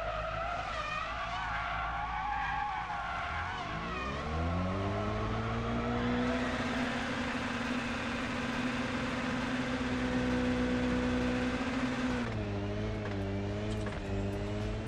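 A rally car engine in a WRC 10 racing game, recorded from the real car, revs and shifts through gears, roaring up and down in pitch with tire skids, loud and close with no talking.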